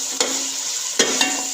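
Tomatoes land in a pan of fried garlic with a steady, close sizzle, broken by a few soft stirring knocks and scrapes while cooking an aloo moongre vegetable dish.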